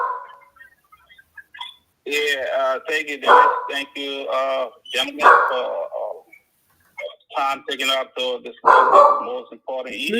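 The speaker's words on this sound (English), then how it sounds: "Please excuse my dog." Dog barking in the background of a live call-in radio talk show, repeated yelps and barks interleaved with someone speaking over a phone line.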